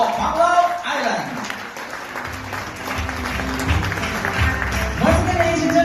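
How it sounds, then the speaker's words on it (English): An audience applauds the incoming president of the Rotary Club of Panglao Island at an induction ceremony, with steady clapping throughout and a person talking over it. "another big round of applause to our incoming President, Jubel Hong"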